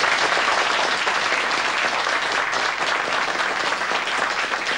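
Studio audience applause on a 1989 Icelandic television quiz show, a dense, steady wash of many hands clapping at full volume for the whole stretch, with no talking over it.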